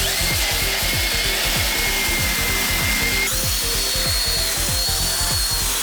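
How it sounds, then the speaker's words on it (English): A power drill with a cleaning brush revs loudly and continuously in cleaning solution, its motor pulsing in quick repeated surges with a rising whine partway through. "rev the drill a little bit to mix up the solution into the water"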